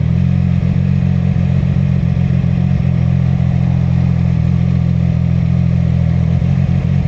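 A CFMOTO 675SS motorcycle engine runs at steady low throttle, loud and close, with a deep droning rumble and slight uneven pulsing and clatter as it jerks at low speed.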